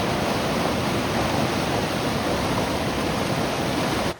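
A strongly flowing river at Pampa during the Kerala monsoon roars as a steady, loud, dense rush of water that continues without a break.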